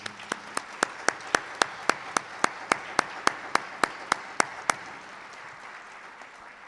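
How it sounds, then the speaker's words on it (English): Slow, evenly spaced claps ring out one at a time at an annual high school top ten awards ceremony, about seventeen sharp hits over a quiet room before stopping. "Could you just join me and give a big round of applause to those colleagues?"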